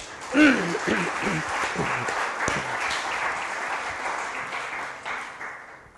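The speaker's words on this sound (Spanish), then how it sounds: "Dele otro aplauso, por favor" A church congregation at a Spanish-language service in London applauds with steady, moderately loud clapping, and a voice briefly rises over it near the start before the clapping carries on alone and tapers at the end.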